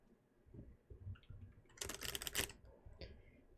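Tarot cards being shuffled, a dense papery riffle burst in the middle of the clip with a few softer card flicks before and after, close and fairly quiet, no talking.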